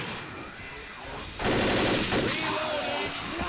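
Mounted gun firing in Left 4 Dead, a sustained rapid burst of machine-gun fire that starts suddenly and runs loud to the end, with a player's voice in the mix.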